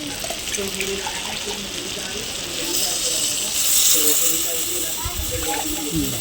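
Steady hissing and steaming spreads through the clip, swelling midway as water hits a hot pan of brinjal and dry fish curry, with faint speech-like murmurs underneath.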